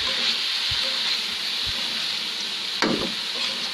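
Curry simmering gently in a pan over low heat, giving a steady soft sizzle and bubble with a few faint knocks and one sharper clink near the end; no one speaks.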